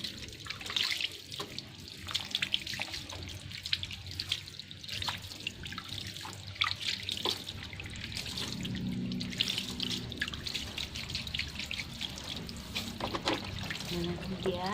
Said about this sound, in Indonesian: Ini kan udah hijau-hijau jamur nih, jadi kita cuci pakai air bersih.